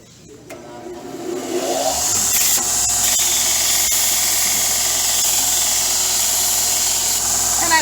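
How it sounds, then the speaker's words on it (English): An adjusting worm shaft is pressed against a powered sander to smooth it into a taper. After a quieter start, a loud, steady abrasive whine settles in and runs on continuously. "that's why we're going to go over here and smooth it out on the sander."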